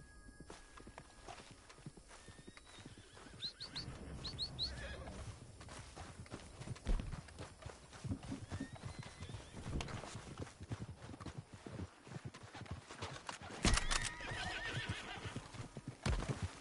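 A horse neighs loudly and its hooves clip-clop in an uneven walking rhythm, with scattered thumps and rustling close by.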